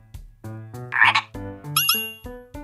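A cartoonish frog croaks in a few rhythmic, musical bursts with harmonic tones and a raspy chirping burst, loud and close, with no talking.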